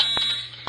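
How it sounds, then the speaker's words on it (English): A school fire alarm at Columbia Middle School sounds during a test, a steady high electronic tone with two short pulsing bursts, loud and close, with no talk. "Bilbo is testing the school fire alarm."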